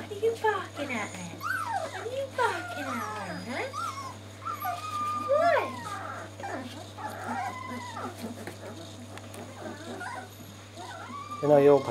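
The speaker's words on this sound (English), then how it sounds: "What are you barking at then?" A dog gives excited yips, whines and short barks close by, intermittent throughout, with people chatting and greeting it over the noise.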